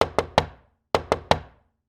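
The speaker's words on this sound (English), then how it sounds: "A knock is at the door." Two sets of three sharp knocks on a door, close and loud, separated by a short pause, with silence between and after.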